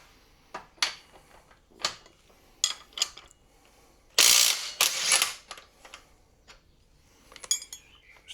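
A 22mm socket ratchet works a nut loose on a red steel crossbar of a garage storage lift, giving sharp metallic clicks in short separate bursts, with a longer stretch of rapid ratcheting and clanks partway through.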